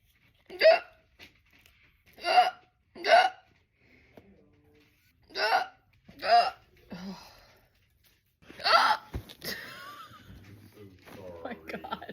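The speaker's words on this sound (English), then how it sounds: "trying to scare my hiccups away." Hiccups from a person trying to scare them away: sharp, close vocal hics in an irregular series, about six strong ones, ending in a longer breathy, moaning vocal sound.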